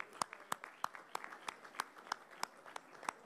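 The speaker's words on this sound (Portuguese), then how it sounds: "Uma salva de palmas aos trabalhadores rurais." Sparse, rhythmic hand claps in honour of rural workers at a parliamentary pension-reform meeting, about ten distinct claps at a steady pace, fairly faint and without talk.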